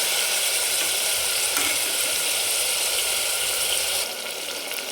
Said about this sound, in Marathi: दोन मिनिट आपल्याला फक्त तेलामध्ये परतून घ्यायचं आहे